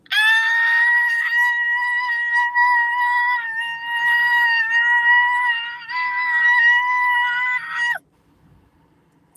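A woman lets out a long, happy high-pitched scream of excitement. It is loud and close and wavers in pitch for about eight seconds before cutting off abruptly into near silence.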